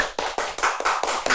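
A quick run of about seven sharp claps or taps, evenly spaced and close, with no voices over them, as applause welcomes Bhojpuri star Aditya Ojha at a television interview event.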